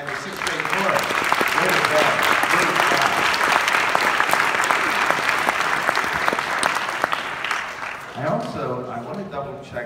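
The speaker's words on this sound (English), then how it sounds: "how about another round of applause for Ms. Smith and the Bell Choir" Sustained audience applause at a school winter band concert, a dense, steady clapping from a full crowd lasting about eight seconds before thinning out as a voice begins speaking near the end.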